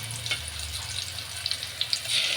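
Hot tempering is poured into plain cooked dal, setting off a close, steady sizzle and crackle with a few sharper pops and a low kitchen hum beneath.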